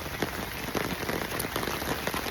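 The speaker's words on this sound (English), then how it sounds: "I'm glad we finally got some rain" Steady rain falls on outdoor surfaces in a vegetable garden with collard greens, a dense continuous patter with scattered drops standing out close by, heard alone with no talking.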